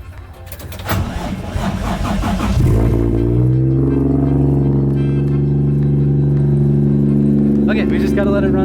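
A car engine is started after an oil change. It catches with a rising roar and settles into a loud, steady, humming idle, with people talking before it starts.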